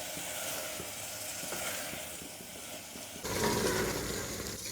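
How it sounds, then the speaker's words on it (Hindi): Tomatoes fry with mutton in a pot for degi balti gosht, a steady soft sizzle with light stirring that grows louder and hissier near the end. "अब हम टमाटर सॉफ्ट होने तक भून लेंगे।"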